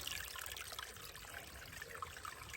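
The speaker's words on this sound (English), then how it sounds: "Nice little spring trickling." A small spring trickles over moss beside the Appalachian Trail, a soft, steady wash of running water that stays faint and even throughout with no voices.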